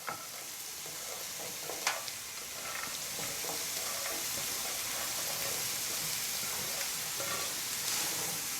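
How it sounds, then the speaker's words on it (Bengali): Mixed vegetables for a restaurant-style vegetarian bhaji hit a hot pan and sizzle steadily, with scraping and stirring clatter throughout and a sharper clack near the start. "এবার আমি এই সবজিগুলা সব এক এক করে এর ভিতরে দিয়ে দেব"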